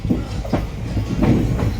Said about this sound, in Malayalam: Punalur Kanyakumari Punalur passenger special ട്രെയിനായിരുന്നു